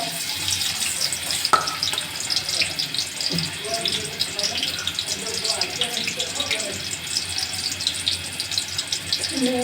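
Onions frying in oil in a pan while cooking pulao, a steady hiss and sizzle with a few clinks of utensils, and a person speaking over it.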